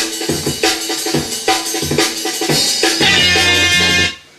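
A drum break, sped up to jungle or drum and bass tempo, plays as fast, busy kick, snare and cymbal hits in a dense rolling pattern, loud and close, ending with a sustained tone before cutting off.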